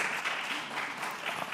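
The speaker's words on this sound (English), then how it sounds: "Audience is reminded to hold their applause, please" Applause from the audience at a congressional hearing on the Flint water crisis: a brief burst of clapping in a large room, fairly soft and diffuse, with no voices over it.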